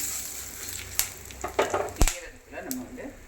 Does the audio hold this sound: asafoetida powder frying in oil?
yes